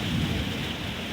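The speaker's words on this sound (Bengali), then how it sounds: "ঝড় হচ্ছে রীতিমতো।" Thunderstorm with rain and strong wind: a loud, steady roar of rain and gusting wind fills the whole short stretch, with a low rumble near the start.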